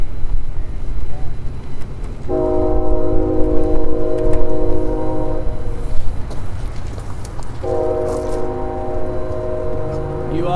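A CSX heritage locomotive, unit 1972, heads southbound through Dalton, sounding two long multi-tone horn blasts over a steady engine rumble as it approaches, with people talking nearby.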